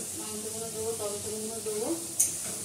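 Onions sizzle in a pot for a meat curry, a soft steady frying hiss with a brief sharp scrape of stirring near the end; no one speaks.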